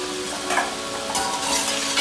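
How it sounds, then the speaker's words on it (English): Tomatoes with salt sizzle steadily in a pan while a utensil stirs them, a close, constant frying hiss with soft scraping bursts and no talking. "I'm going to cook these tomatoes with a little bit of salt."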